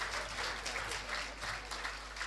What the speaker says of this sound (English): Can we please give the presenters a wonderful round of applause?